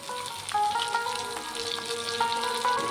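Egg chilli sizzles in a pan with chilli flakes and chopped coriander, a steady frying hiss broken by light metallic stirring clinks and scrapes, close and without talk.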